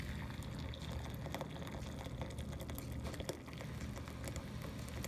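Boiling water pours into a bowl with a continuous splashing, gurgling rush, close and steady throughout, no voices.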